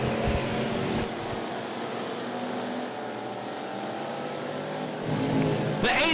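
Street stock race cars roar around a dirt oval at Thunderhill Raceway, a steady loud engine drone with shifting pitch as cars pass close, swelling again near the end.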